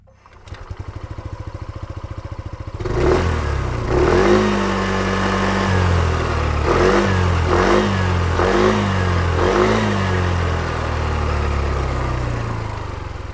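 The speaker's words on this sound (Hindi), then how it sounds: "आपको इसका एग्जॉस्ट नोट सुनाता हूँ" Hero Xoom 160 maxi scooter engine and exhaust, a brief idle putter then repeated throttle blips, about five sharp revs rising and falling close by, with no talk.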